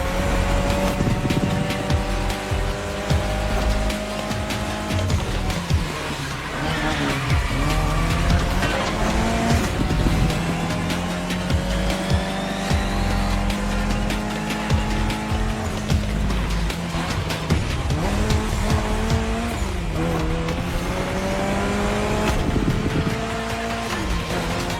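A Mitsubishi Lancer Evo X racing in The Crew Motorfest, its engine revving loudly and steadily with gear shifts rising and falling in pitch, tires squealing through corners over continuous road roar.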